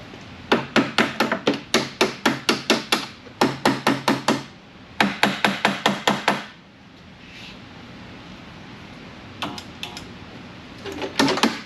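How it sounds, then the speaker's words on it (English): A hammer taps repeatedly on the metal of a 30-year-old snow blower left sitting outside for years, in quick rhythmic bursts of sharp knocks with short pauses, then quieter scattered taps near the end. "Tap on it with a hammer a little bit."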